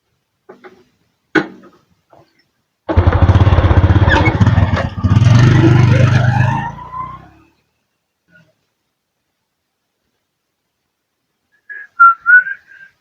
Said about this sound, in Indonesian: Kusaha motor bieu?